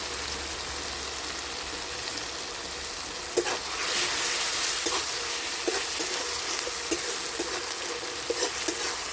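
Ground onion paste hits a hot oiled pan already holding garlic paste for a cauliflower and rohu fish curry, making a loud, steady sizzle joined after a few seconds by scraping stirs.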